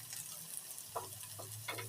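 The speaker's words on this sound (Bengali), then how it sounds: "এরপর আলুটাকে আবারও একটু নেড়ে চেড়ে নিতে হবে।" Potatoes with tomato are stirred in a covered wok, a steady sizzle of frying under repeated scraping strokes of a spatula, close and fairly quiet with no talk.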